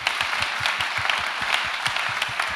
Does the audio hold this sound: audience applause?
yes